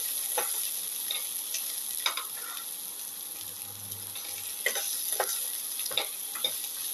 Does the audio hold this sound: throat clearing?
no